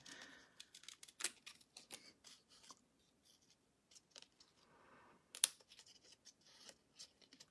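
Small scissors fussy cutting around a paper design for a card, a close, quiet run of crisp snips and paper rustles at an uneven pace.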